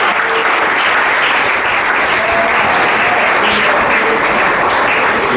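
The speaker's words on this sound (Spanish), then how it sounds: "Denle un aplauso al Señor" Loud, sustained applause from a church congregation fills the whole stretch, dense and steady with no break or talk over it.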